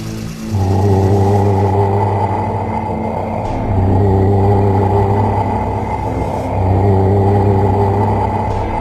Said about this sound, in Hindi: गुल्ली ने गाड़ी की स्पीड बढ़ाई और तीनों वहां से फरार हो गए